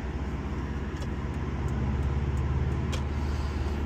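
A car's engine and road noise hum steadily from inside the cabin as it joins the motorway, a constant low rumble with no talk.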